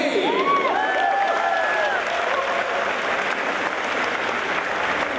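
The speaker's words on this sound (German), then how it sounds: "Nochmal großer Applaus hier für Gruppe B." Dense, loud applause fills a Gamescom 2014 Blizzard costume contest hall, holding steady from start to finish, with a few whistles and cheers riding over the clapping early on.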